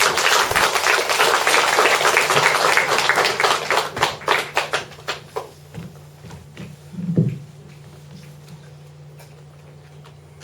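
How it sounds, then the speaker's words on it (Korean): Audience applause welcoming a poet on stage at a poetry recital concert, a full round of clapping that thins into scattered individual claps and fades out, followed by quiet room tone. "여러분 큰 박수로 환영해 주시기 바랍니다"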